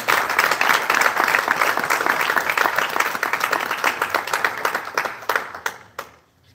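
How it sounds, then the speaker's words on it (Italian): An audience applauds at an evening talk on black holes in Italy, dense steady clapping that thins into scattered claps and cuts off near the end. "Facciamo giusto un applauso di coraggio."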